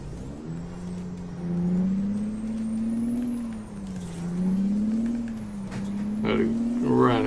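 A heavy truck in American Truck Simulator drones with a steady engine hum that rises and dips, ending with short air-brake hisses near the finish while someone talks over it.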